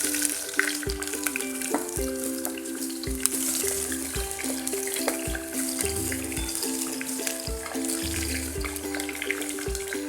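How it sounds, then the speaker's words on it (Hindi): A sliced large onion frying in oil with cardamom in a pot for dal gosht, a steady soft sizzle with light stirring clinks, close and fairly quiet, no talking. "अब इसमें हम ऐड करेंगे एक स्लाइस की हुई बड़े साइज़ की प्याज"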